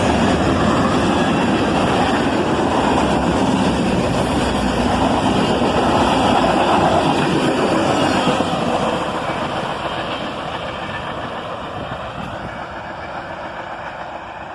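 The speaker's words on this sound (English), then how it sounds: "the end of the train's in sight" Freight train with Canadian Pacific, Norfolk Southern and BNSF units rolling past, a steady broadband rumble and rail noise that gradually recedes as the end of the train goes by.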